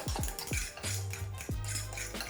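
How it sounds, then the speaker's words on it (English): Spoon scraping and clinking against a bowl while stirring mashed banana and oats pancake batter, with a few sharp taps and steady mixing, close and fairly quiet. "Add your oats and continue to mix"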